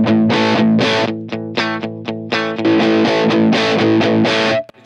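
Electric guitar played through a distortion pedal, loud saturated chords struck in a rhythmic pattern with some short choppy stabs and sustained ringing notes, cutting off abruptly at the end.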